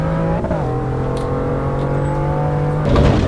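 A BMW M2's engine in the racing game Assetto Corsa EVO holds a loud, steady drone with a brief dip in pitch early on and a rise at the end, and no talking.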